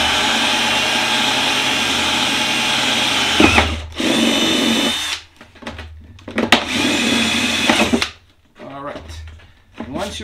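A loud power drill runs in long whining bursts, stopping and restarting several times as it bores through a plastic bucket, up close.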